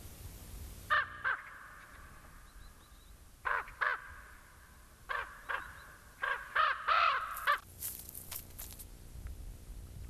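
Loud crow caws from birds gathered at a winter feast where eagles feed, coming in repeated bursts of two and three calls against quiet outdoor background, with more overlapping calls near the end.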